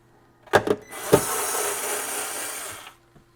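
A cordless screwdriver drives a screw into a Marantz 6120 turntable plinth, with a few sharp clicks and knocks and then a steady whirring motor run of about two seconds, close by and fairly quiet.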